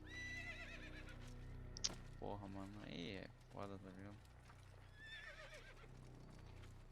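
In an Assassin's Creed video game a horse neighs loudly with a wavering whinny, followed by clip-clop hoofbeats, while someone talks over the game sounds.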